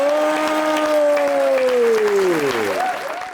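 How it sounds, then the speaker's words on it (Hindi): Studio audience applause at a Pakistani talk show: a dense wash of clapping throughout, with a loud descending tonal glide running over it before it tapers off near the end. "तालियां।"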